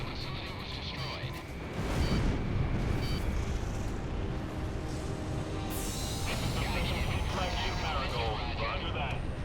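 Explosions rip through an enemy facility in the video game Ace Combat 6, a loud sustained blast and rumble with crackling debris and a sweeping whine overhead, while radio voices chatter.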